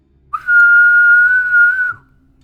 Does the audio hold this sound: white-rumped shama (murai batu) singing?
no